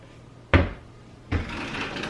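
A kitchen flatware drawer pulled open: a sharp wooden knock, a short pause, then a second thud followed by a sliding rattle of cutlery, close and clear in a quiet room.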